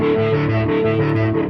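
A sustained electronic tone from an Ultrawave Multiband Processor effects pedal pulses smoothly up and down with sine-wave modulation, in a steady, wavering rhythm.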